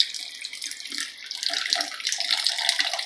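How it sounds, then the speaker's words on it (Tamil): Coconut milk poured into a pot of simmering fish curry, a steady liquid splashing and trickling pour heard close up on its own, growing slightly fuller toward the end. "ஃபைனலாக தேங்காய் பால் ஊற்றினா"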